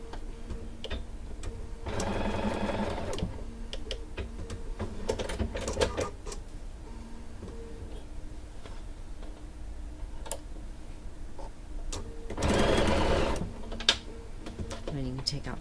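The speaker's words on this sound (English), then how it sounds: "And sew with a 1/4 inch seam." A sewing machine stitching a quarter-inch quilt seam runs in two short bursts of rapid, close mechanical whirring, separated by quiet stretches of faint ticks and handling noises.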